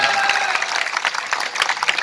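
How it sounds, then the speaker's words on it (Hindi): An audience at a political gathering in Aurangabad claps to welcome a speaker, a dense, continuous burst of many hands at full volume with faint crowd murmur. "आप तालियां बजाकर उनका स्वागत कीजिए"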